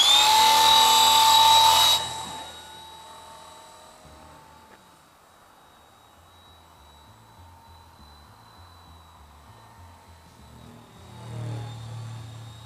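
Kyosho Hyperfly RC helicopter without a tail rotor at full power, a loud, high whine for the first two seconds that drops away sharply, leaving a faint thin tone and low rumble.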